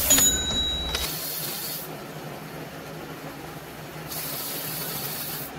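A spray bottle spritzes liquid during steel blade making in a workshop, with a short hiss at the start, a second longer hiss shortly after, and another sustained spray near the end, close and moderately loud.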